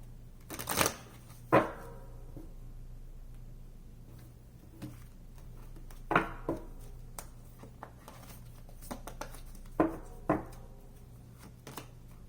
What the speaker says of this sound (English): One more shuffle, one more.